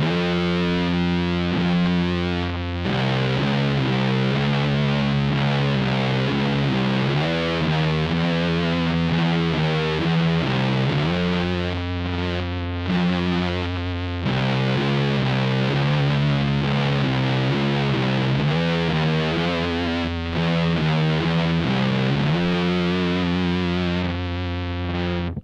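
Heavy distorted electric guitar riff in C standard tuning, doom style, played loud and sustained with slow sliding single notes and thick chords, continuous with brief gaps and no talking.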